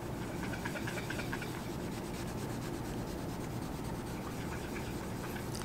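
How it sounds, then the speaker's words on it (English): A cotton tip applicator scrubs a metal beam surface coated with neutralizer during strain gage installation, making a continuous close, even rubbing hiss with no pauses or voices. "using a cotton tip applicator, he's going to scrub the surface of his beam"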